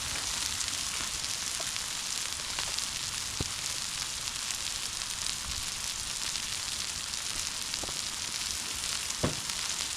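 Onions sizzling on a Blackstone griddle, a continuous dense hiss of frying with a few faint clicks and pops spread through it, steady and close, without any speech.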